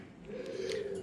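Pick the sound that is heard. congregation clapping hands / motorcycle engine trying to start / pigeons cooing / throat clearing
pigeons cooing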